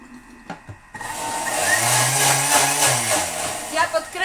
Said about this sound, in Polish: Teraz to się po prostu nam szybko wymiesza